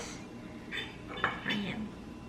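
Dishes, pots and cutlery are handled at home for soaking, giving a few soft, faint clinks and clatters in a quiet room, with a low voice murmuring in the background.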